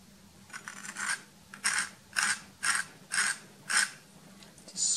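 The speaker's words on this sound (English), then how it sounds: "just scrape back into it to get the shape I want of the church" A tool scrapes back into acrylic paint on a landscape painting of a church, seven or eight evenly spaced rasping strokes, close and fairly quiet, with no talk.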